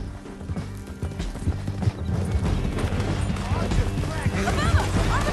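A horse gallops in Red Dead Redemption 2 with steady, rapid clip-clopping hooves throughout, mixed with game action sounds and a character's talk.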